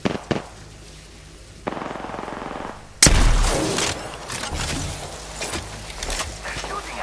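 Automatic gunfire crackles in Apex Legends, starting with a few sharp shots, then a sustained burst of rapid fire, and continuing as loud repeated volleys.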